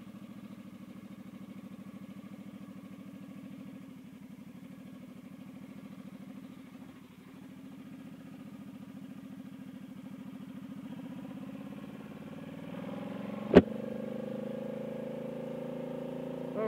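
A cruiser motorcycle idles with a steady low rumble throughout, close by, with a brief sharp click or knock near the end before the idle continues slightly louder.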